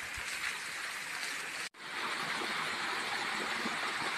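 A waterfall pours into a flowing stream in a steady, loud broadband rush that continues without pause, cut only by a brief dropout partway through.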